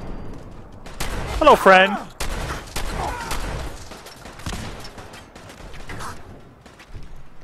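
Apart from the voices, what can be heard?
gunshots from the video game Fallout 4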